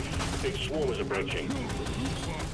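Rapid submachine gun fire from Deep Rock Galactic: Survivor, a dense, continuous stream of shots layered over busy game effects and tonal chimes, steady and loud for the whole stretch.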